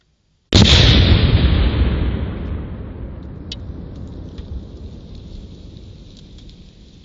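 A single sharp, loud Tannerite blast detonating under a taped-on golf ball, followed by a long rumbling decay and scattered debris patter fading over several seconds.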